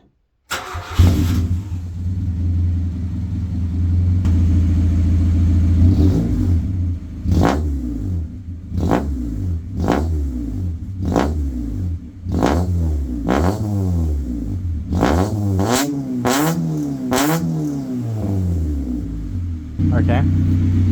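A Honda Civic EK with an aftermarket sports exhaust starts, idles, then revs repeatedly in sharp, rising blips, loud and close, with the engine settling back to idle between pulls.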